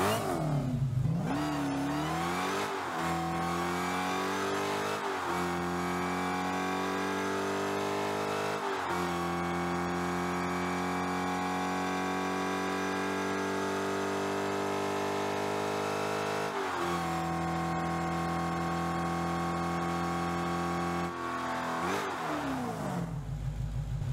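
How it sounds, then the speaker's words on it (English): A Fast & Furious Dodge Charger SRT Hellcat engine in Rocket League hums steadily in the garage with a buzzy, harmonic tone, its pitch briefly rising and falling with occasional revs, alone and unbroken. "Here's what the engine audio sounds like in the garage."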